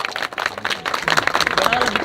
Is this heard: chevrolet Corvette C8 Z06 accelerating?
no